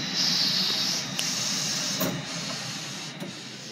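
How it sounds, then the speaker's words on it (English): A Mutoh ValueJet 1324X eco-solvent printer with a loose printhead spring: a steady hissing carriage drone broken by a few sharp clicks as the head stops, close and without talk. "So when the printhead would travel and it would stop, it would click. It would go, click, click, click"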